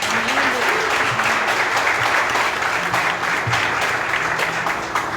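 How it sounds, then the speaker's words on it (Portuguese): A church congregation at an evening Presbyterian service breaks into applause, a steady dense wash of clapping filling the room with faint voices and murmurs underneath throughout. "Quantos podem receber também o Diogo com palmas?"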